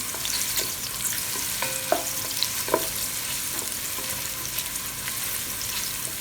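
Pancit canton noodles fry and sizzle in a pan over low to medium flame while being stirred, with steady crackle and intermittent scraping clicks of the utensil, close and alone without talk.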